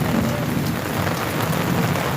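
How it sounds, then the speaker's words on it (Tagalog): Heavy rain pours down on a road during a flood, a dense, steady roar of drops on surfaces with a deep rumbling undertone and no break. "malakas ang ulan eh"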